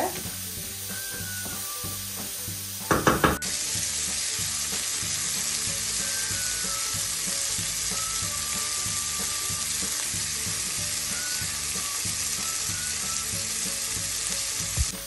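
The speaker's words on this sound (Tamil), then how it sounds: "இப்ப பாத்தீங்கன்னு சொன்னா ரால் வந்து ஓரளவுக்கு பொரிச்சு வந்துடுது" Prawns fry steadily in a pan of hot oil, a dense continuous sizzle with a brief clatter of stirring near the start, close and even throughout with no talking.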